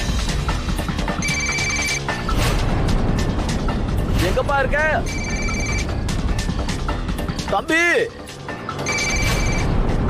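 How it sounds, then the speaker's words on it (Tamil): Phone ringtone ringing nearby in a repeating electronic pattern over a busy, loud scene with music and sound effects, while a person calls out and talks over it. "இது அண்ணனோட ரிங் டோனே தான்."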